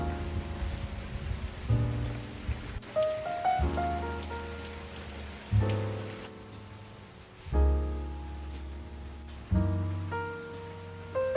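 Rain falls at an island home as a steady patter on a surface. Resonant, plinking drop tones rise in clusters every couple of seconds, close and moderately loud, with no voices.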